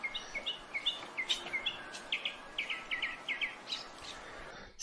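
Outdoor birdsong with quick, high chirps repeating in irregular bursts at a moderate distance over a constant hiss of background noise.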